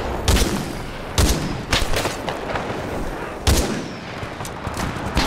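Heavy, booming single shots from a DMR rifle in a Titanfall 2 Attrition match ring out close and loud, four shots at uneven intervals with a lingering echo and background battle noise between them.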